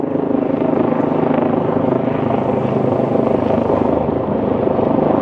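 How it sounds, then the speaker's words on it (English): An air ambulance helicopter passes over downtown Toronto in the early morning, its rotor a loud, steady, throbbing roar filling the whole stretch without pause. "looks like an air ambulance making its way to one of the hospitals over on Hospital Row"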